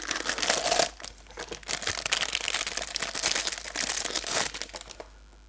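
An AliExpress parcel is torn open, with close, busy crinkling and crumpling of plastic and paper wrapping in quick bursts that stop abruptly into near silence.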